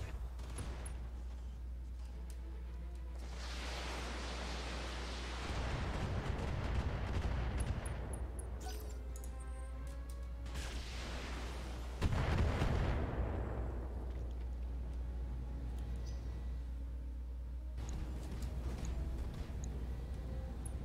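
Mech weapons fire in the BattleTech video game as repeated booming volleys and explosions with decaying rumble, set against a constant low game hum, fairly faint overall.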